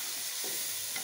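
Spicy macaroni with tomatoes and peas is stirred in a hot pan, giving a close, steady frying hiss broken by two brief scraping stir strokes, with no voices.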